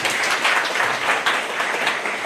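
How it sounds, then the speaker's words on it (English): An audience at a county SDGs dialogue event in Homa Bay gives a short burst of applause, dense and even clapping at moderate volume, with no other sound on top. "Why don't you give him a clap?"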